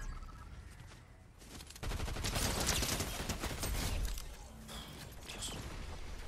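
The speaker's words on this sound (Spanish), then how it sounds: "Me están disparando de nuevo." Fortnite gunfire: a rapid volley of shots breaks out after a quieter stretch and keeps crackling densely for a couple of seconds before easing into scattered bursts.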